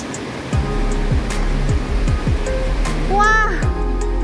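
Guanyin Waterfall in Zhuqi, Chiayi, gives a steady, loud rush of falling water that fills the whole clip, with voices talking over it.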